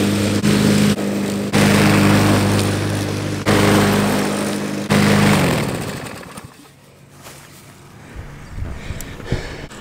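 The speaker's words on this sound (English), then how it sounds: "I'm gonna end my lawn mowing there." Lawn mower engine running during mowing, loud and close with a steady drone and a couple of brief dips, then fading and dropping away after about six seconds to quieter outdoor noise, no talking.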